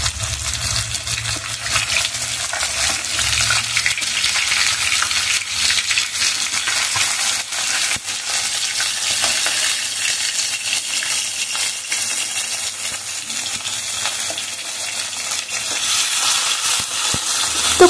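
Fish fries in mustard oil in a small, round wok, giving a steady, loud sizzle and crackle that runs throughout with no talk over it.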